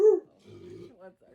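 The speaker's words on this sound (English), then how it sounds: "my dog was barking out the window" A pet dog at a window gives one short, close bark, followed by low growling or whining sounds in a quiet indoor room.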